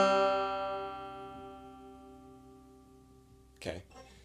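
Banjo roll ending as the fretted 3rd string is released, leaving a single plucked chord that rings and slowly fades, followed by a brief soft knock near the end.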